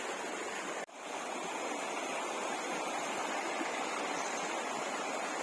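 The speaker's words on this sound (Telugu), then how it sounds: "వాటర్ సౌండ్ సూపర్ అన్నమాట సెలయేరు" A hillside stream flows near Rampachodavaram, a steady, close, even rush of water with a brief dip near the start and no talking.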